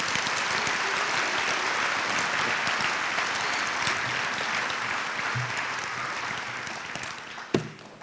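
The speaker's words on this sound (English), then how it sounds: "Let's give those kids a round of applause." Audience at a high school Veterans Day ceremony applauding the school kids, a dense steady clapping from a large crowd that slowly thins toward the end, with a sharp knock near the close.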